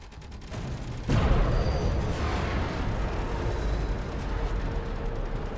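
A defence turret firing in Space Engineers, a sudden heavy boom followed by a sustained rumbling roar of continuous fire.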